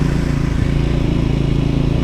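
Triumph Scrambler 400 X motorcycle engine running steadily while riding in third gear at low speed, a loud, even, pulsing drone with strong low-end rumble and no talking.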